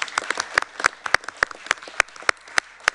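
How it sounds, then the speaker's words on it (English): Round of applause at a board of directors meeting, a small group clapping nearby in a quick, fairly regular rhythm of sharp distinct claps, with no talking. "maybe we could just quickly do a round of applause."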